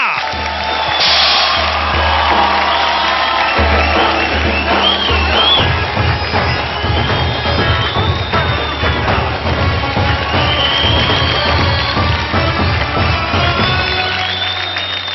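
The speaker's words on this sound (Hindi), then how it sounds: "जोरदार तालियां हो जाए।" Studio audience on a televised talent show cheering and applauding loudly for two pre-finale contestants, a dense sustained roar of clapping and shouts with music underneath that holds steady for the whole stretch.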